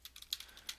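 A quick burst of typing on a computer keyboard, several light clicky keystrokes in under a second, close and fairly quiet.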